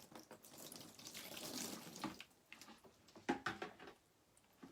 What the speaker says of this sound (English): I just rinse that with just regular tap water